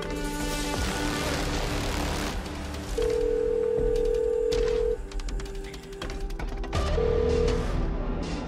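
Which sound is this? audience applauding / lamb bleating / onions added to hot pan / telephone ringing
telephone ringing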